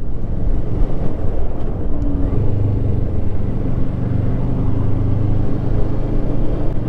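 A Kawasaki ER-6F motorcycle at full throttle on a German Autobahn, a loud continuous engine drone and road roar mixed with heavy wind buffeting, steady and unbroken from start to finish.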